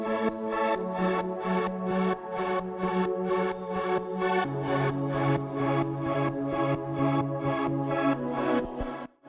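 Digital Drift synth pad playing sustained chords, pulsing rhythmically throughout with a chord change midway and another near the end, full and steady before cutting off abruptly.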